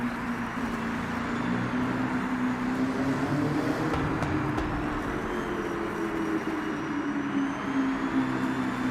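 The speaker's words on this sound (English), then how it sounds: "I can hear the turbo in the distance" A car's turbo whines faintly in the distance in the Forza Horizon racing game, a thin steady tone riding over a constant low engine and road drone for the whole stretch.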